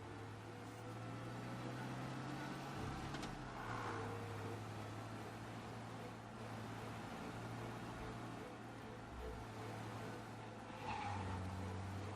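A car in the video game Mafia Definitive Edition speeds along in a getaway, its engine droning steadily and loudly throughout, with occasional swells and background city noise.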